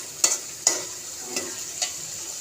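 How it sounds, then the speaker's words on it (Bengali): Fish sautés in a pan under a bright sizzle, and four distinct scraping clacks of the stirring spatula come at uneven intervals. "মাছগুলো আমি একদম কষিয়ে নিচ্ছি"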